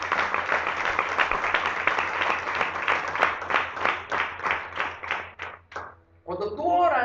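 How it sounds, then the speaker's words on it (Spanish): A church congregation claps in praise for the Lord, a dense, rhythmic round of applause that thins into scattered claps and stops, with a preacher's voice returning at the end. "Dale un aplauso al Señor."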